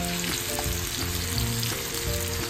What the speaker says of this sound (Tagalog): halo-haloin lang natin yung mga pinaghalong kamatis,